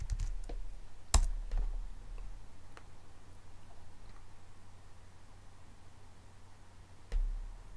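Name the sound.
typing a command on a computer keyboard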